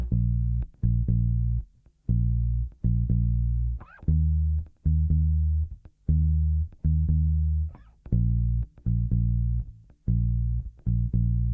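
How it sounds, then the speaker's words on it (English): A clean, dry DI bass guitar signal plays a plucked, rhythmic line of deep notes with short gaps, no effects or other instruments. "the bass currently is just this very simple DI'd bass signal"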